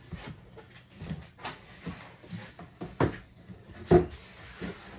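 A large cardboard box holding a Serpent 1/8 RTR truggy is handled and opened up close, giving a run of soft knocks, rustles and thumps with a couple of louder bumps near the end.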